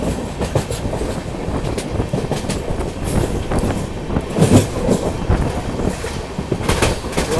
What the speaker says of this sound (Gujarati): આપણી ટ્રેન જઈ રહી છે